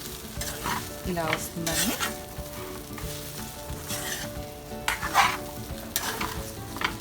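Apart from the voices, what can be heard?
stirring flattened rice upma frying in pan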